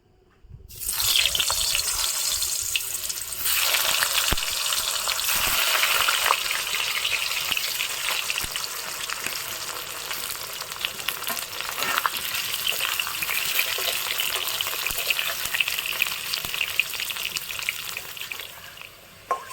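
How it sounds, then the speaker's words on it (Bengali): Potatoes frying in mustard oil in a hot wok, with a steady loud sizzle that begins after a brief quiet start and keeps crackling and hissing without a break. No one talks over it. "আলুগুলো খুব ভালো করে লাল লাল করে ভেজে নেব।"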